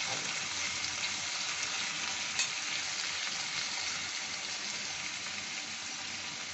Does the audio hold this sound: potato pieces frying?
yes